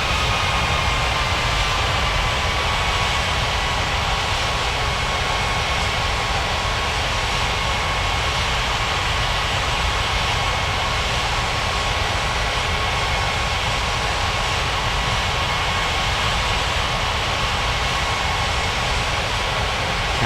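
Airliner jet engines hum at steady taxi power in a flight simulator game, a loud continuous roar with a faint whine on top that never changes across the whole stretch, no voices present.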